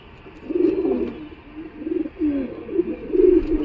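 Khoten pigeon with clipped wings cooing close by in steady, rolling bursts, low throaty murmurs rising and falling with only brief pauses between phrases.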